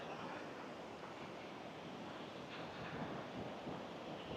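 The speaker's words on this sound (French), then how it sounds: "c'est l'océan. Et du coup, il y a des vagues, il y a des gens qui font du surf" Atlantic ocean waves break steadily along the coast at Cádiz, with surfers in the water, a continuous wash of surf mixed with wind rumble, heard alone without voices.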